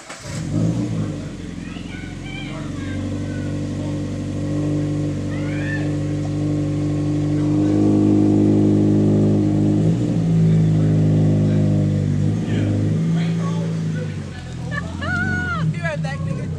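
A Hyper Blue Subaru BRZ with a muffler delete exhaust rumbles loudly and rises in pitch as it revs, sustained and close, with people chatting over it.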